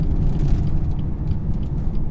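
A BMW 420d Cabriolet diesel drives with the roof down in winter, a steady low engine drone and road rumble, fairly loud and unbroken.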